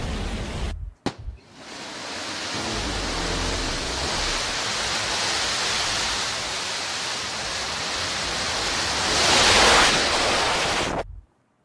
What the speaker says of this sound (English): So we had New Shepard on the pad there, a nice ignition. And a clean liftoff,